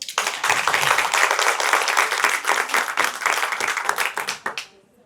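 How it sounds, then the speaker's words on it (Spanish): An audience breaks into loud, dense applause that holds steady for several seconds before thinning to a few scattered claps and fading out. "Demos otro fuerte aplauso."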